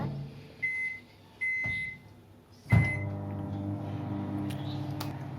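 A microwave oven roasts spicy masala peanuts with a low steady hum. Door clunks and short beeps come first, then the hum starts and runs on alone, close by.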